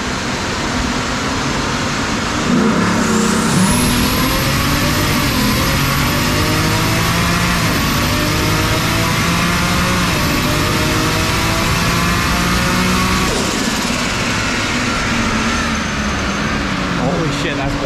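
A loud car engine on a dyno roars steadily under full load, pitch climbing and dropping through successive gear shifts, with a high whine throughout and a brief voice near the start.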